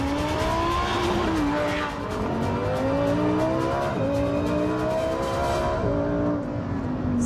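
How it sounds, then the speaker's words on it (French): Lamborghini Huracan Performante supercar with a naturally aspirated V10, its engine note loud and sustained, rising and falling through several revving sweeps over about seven seconds with no talking. "Ça, c'est le son d'une supercar."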